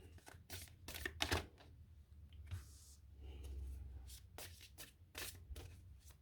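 Cards riffle and shuffle in several quick bursts with pauses between, soft and close in a quiet room.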